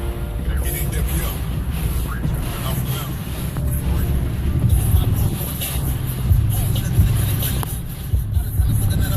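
Hurricane Matthew's strong wind funnels between beachfront condos and high rises at North Myrtle Beach, a constant low roar buffeting the microphone in heavy gusts, with indistinct talk mixed in.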